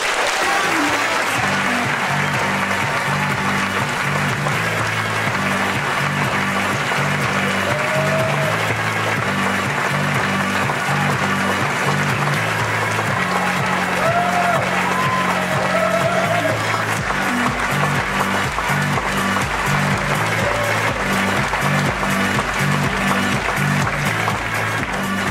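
Sustained applause from an audience at an award acceptance ceremony, a steady dense wash of clapping lasting the whole stretch, with a low hum and faint voices underneath.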